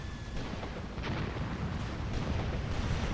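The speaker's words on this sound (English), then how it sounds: "Now our artillery is finally coming in" Artillery barrage in Graviteam Tactics: Mius Front, a continuous low rumbling roar of distant shelling with soft thuds blending together, steady and fairly faint.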